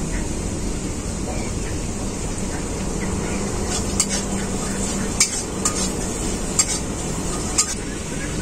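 A spoon stirs fried onions with Kashmiri chili and turmeric powder in a pan, making a soft steady sizzle punctuated by a few sharp metallic scrapes and clinks.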